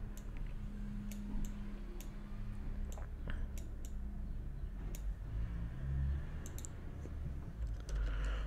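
Sharp mouse clicks on a computer scattered over a steady low hum, faint and close, with no voices.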